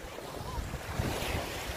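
Sea waves wash steadily at Clachtoll Beach in Sutherland, Scotland, a continuous surf roar mixed with wind buffeting the microphone, heard alone without talk.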